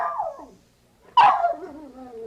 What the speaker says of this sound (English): Yes, it's Spot the Wonder Dog